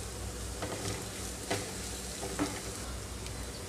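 Cabbage and carrot fry with chili powder stirred in a pan, a soft continuous sizzle with a few light scraping clicks of the spoon.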